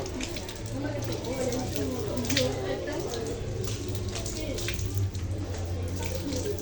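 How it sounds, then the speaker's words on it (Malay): Water splashing and sloshing at a tap or basin while the mouth is rinsed during ablution, continuous running and splashing throughout, with people's voices faintly in the background. "Yang ketiga berkumur-kumur"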